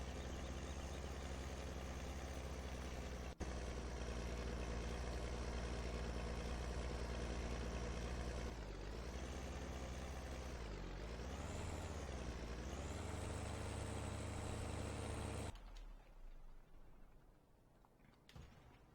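Kenworth W900 semi-truck engine idling in Farming Simulator 17, a steady close low rumble holding for about fifteen seconds with a brief shift midway, then cutting off to quiet.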